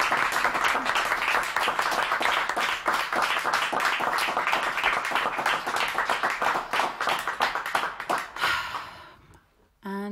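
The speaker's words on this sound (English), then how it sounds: "I'm going to give you a round of applause" An audience breaks into sustained applause during a live music session, loud dense clapping that thins out and fades near the end, followed by a short quiet gap.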